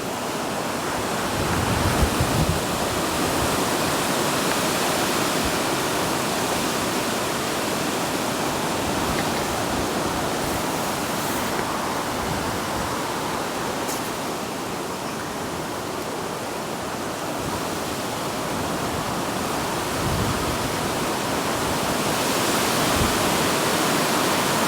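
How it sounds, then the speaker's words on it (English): Strong wind blows without letup at a lakeside fishing match, a dense, roaring broadband rush buffeting the microphone with small swells and no voices. "Wind is terrible."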